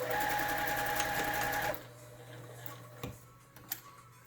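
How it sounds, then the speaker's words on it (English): A sewing machine stitches a fabric face mask seam in a steady rapid whir lasting under two seconds, then stops, leaving quiet handling clicks and taps. "I start on the bottom with the sewing, and I do a 1/4 inch seam allowance, front and back stitch"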